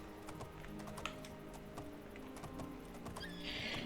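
Shadowmere, a horse in the video game Oblivion, gallops with quick, light hoofbeats, and a brief bright whoosh of game sound comes near the end. Everything sits at low volume with no one talking.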